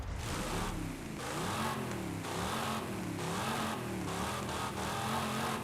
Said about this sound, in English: I love the growl of muscle cars.